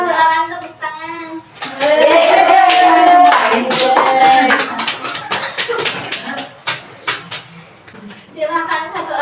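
A classroom audience claps during a career guidance session, a burst of scattered, fairly close hand claps that follows voices and then fades as speaking resumes.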